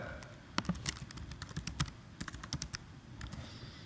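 Quick, uneven keystrokes clatter on a computer keyboard, a burst of close, light clicks with short pauses between them.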